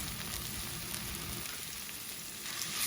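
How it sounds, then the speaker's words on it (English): Already sautéed onions go into a hot pan of dry potato bhaji, and a continuous, even frying hiss holds steady throughout at a fairly soft level. "And now I'm ready to put my onions in."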